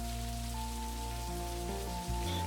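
Gentle rainfall in the Necrobarista game world, a faint continuous hiss of drops mixed under calm, held musical tones that change pitch a few times.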